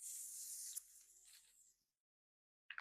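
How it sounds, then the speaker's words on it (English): Fine mist hisses from a facial spray can of Evian water in a close, soft burst lasting under two seconds, followed by silence and a brief faint sound at the end. "I'm gonna apply my Evian facial spray because I love this."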